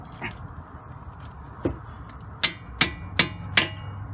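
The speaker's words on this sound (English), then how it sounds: "I'm gonna tap them out with the hammer" Steel hammer tapping bolts out of the front strut on a 2006 Toyota Avalon XLS, a soft knock followed by four sharp, evenly spaced metallic strikes, close and loud with no talk.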